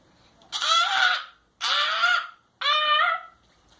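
A voice mimics a macaw with three harsh, raspy squawks, each about a second long and evenly spaced, loud and close against quiet room noise.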